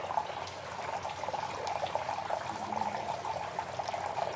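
A decorative silver water fountain with an elephant design trickling steadily, a soft continuous splash and burble of falling water, faint and close with no voices.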